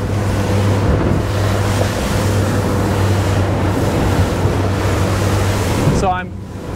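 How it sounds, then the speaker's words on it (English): Continuous roar of a luxury Italian RIB's engine and rushing water as it runs down ocean waves at about 18 knots, with heavy wind noise, close and loud throughout. "And now I'm going to drive down the waves."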